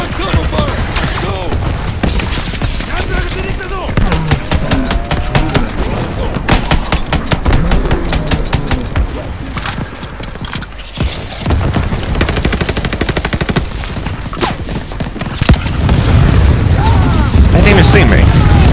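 Sustained machine gun cover fire in the World War II shooter Call of Duty: Vanguard, loud, dense bursts of rapid shots with booming explosions, shouted voices mixed in over the constant gunfire.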